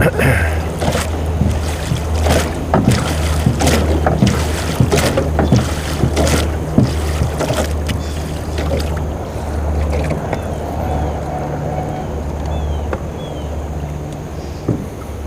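Low steady engine drone of boats passing on the water, with wind buffeting and splashing over the top throughout.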